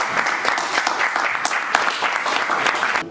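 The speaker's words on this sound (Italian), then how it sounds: "Facciamo un applauso." Audience applause after a film festival director is introduced for a Q&A, a steady dense patter of many hands clapping throughout, fairly loud and close with no talk over it.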